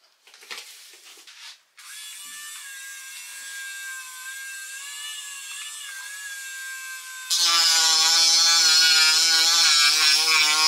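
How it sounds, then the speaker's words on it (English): A battery Dremel rotary tool whines steadily as it cuts into a paper mache skull, the high-pitched drone wavering slightly before jumping noticeably louder and harsher for the final few seconds. "I might start cutting right now, depending on how much battery the Dremel tools have."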